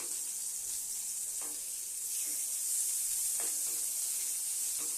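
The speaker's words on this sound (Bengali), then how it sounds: "তোমাদের আগে একটু বেগুনটা ভেজে নিই।" Eggplant slices frying in hot oil in a home kitchen pan, a steady bright sizzle that holds evenly throughout with a few soft stirring touches, close and alone without any talk.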